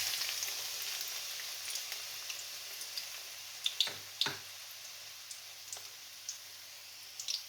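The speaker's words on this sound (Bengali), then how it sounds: "পেঁয়াজটা আমি হালকা বাদামি কালার করে ভেজে নেব।" Onion frying in half a cup of hot cooking oil in a wok: a faint, steady sizzle with scattered small pops and crackles.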